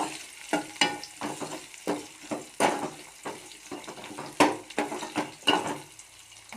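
Sliced onions are stirred in a pan of hot sesame oil with mustard seeds and fenugreek, giving a soft, continuous sizzle broken by repeated scraping stirs of a spoon, close and moderately quiet.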